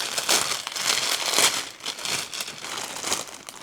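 Packaging crinkles and rustles in close, loud bursts as a kit is unpacked by hand, the crackling rising and falling irregularly throughout.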